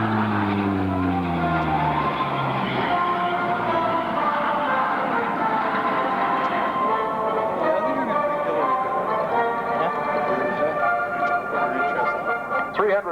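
A maritime patrol aircraft from 415 Squadron passes in a flying display at the 1995 London International Airshow, its engine roar sweeping loud and steady with a falling pitch and a public-address voice running over it.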